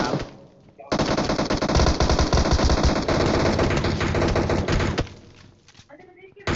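Loud, close machine gun fire in a video game, one sustained rapid burst lasting about four seconds, with quieter game sounds before and after.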